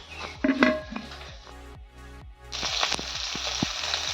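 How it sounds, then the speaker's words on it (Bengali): Fish frying in a wok (kadai) in a village kitchen: a steady sizzle that grows louder in the second half, with a few clinks of utensils against the pan. "মাছের জন্য আমি মাছটা কড়াইতে বসিয়ে দিয়েছি"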